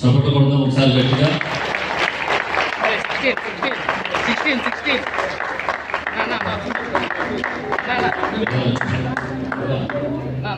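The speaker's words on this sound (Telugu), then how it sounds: "చప్పట్లు కొడదాం ఒకసారి గట్టిగా." An audience at a bishop's 78th birthday celebration applauds with steady, continuous clapping. Voices and musical tones run over the claps for the whole stretch.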